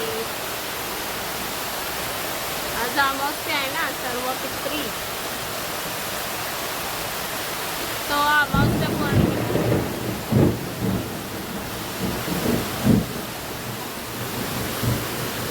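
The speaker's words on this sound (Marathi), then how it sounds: "आवाज ढगांचा गडगडाट आणि अतिशय जोरात असा पाऊस चालू झालेला आहे।" Heavy rain pours in a steady roar with low rumbles of thunder during a storm on a new-moon evening, while someone talks and a few louder bursts break through the downpour.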